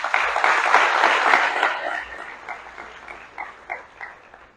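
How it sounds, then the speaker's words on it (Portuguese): A church congregation applauds during an Easter service, steady clapping that swells early and then thins into scattered, separate claps toward the end. "Você pode aplaudir o Senhor?"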